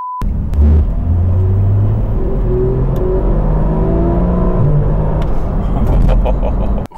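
A Porsche GT3 RS engine rumbles and revs up loudly from inside the cabin, the pitch climbing through gears before cutting off abruptly.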